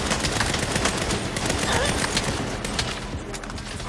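Rapid sniper and automatic gunfire rattles through a firefight in the video game Saints Row, dense overlapping shots with someone talking over the noise.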